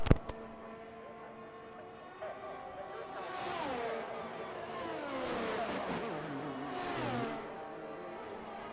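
A race car engine in Bahrain qualifying approaches the start-finish line at night, whining louder as it nears, with several sharp rising and falling revs through gear changes, moderately distant under a soft background hum.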